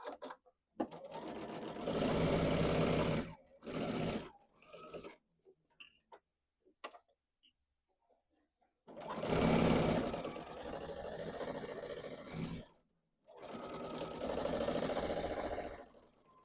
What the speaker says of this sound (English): Okay, I got done with the sewing.